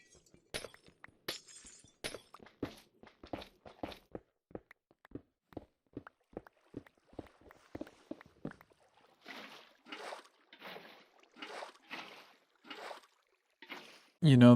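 Minecraft blocks of brick and glass being broken one after another, a long run of sharp, evenly spaced clicky hits followed by a series of softer crunching shatters, fairly close and alone.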